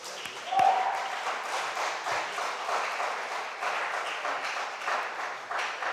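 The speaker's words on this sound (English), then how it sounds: "Let's give them a round of applause." An audience at a national junior science and maths quiz championship gives the three contesting schools a round of applause, a fairly soft, steady wash of clapping with one brief louder thump near the start.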